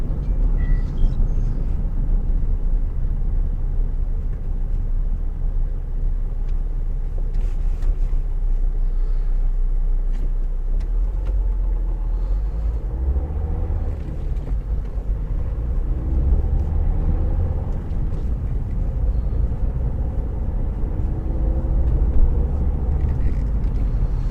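Car driving the A259 road from Hythe through Saltwood and Sandgate to Folkestone: a steady low road rumble and engine drone that swells and eases slightly with speed, continuous throughout with no talk.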